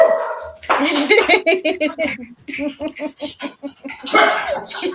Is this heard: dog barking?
yes